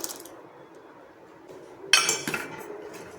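Soaked sabudana (tapioca pearls) tipped into a pot of boiling milk for kheer, a bright clatter of a spoon against the metal pot after a quiet stretch, close and fairly loud, then a few fading clinks.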